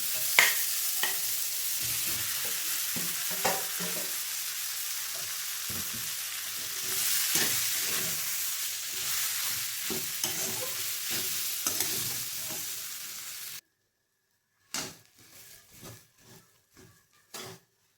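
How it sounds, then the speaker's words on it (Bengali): Boiled potatoes stirred and fried in a wok for Shimla mirch pakoda, with a steady sizzle and repeated scraping strokes for about thirteen seconds, then silence and a few last clinks and scrapes. "এবার আলু সেদ্ধটাও ঢেলে দেবো।"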